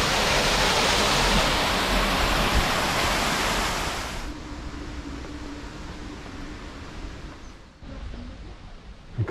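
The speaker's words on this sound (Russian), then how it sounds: "Падающая водичка." Falling water in Kaleiçi, Antalya, Turkey: a loud, dense rushing roar that dominates the first few seconds, then drops to a softer, steady splashing wash.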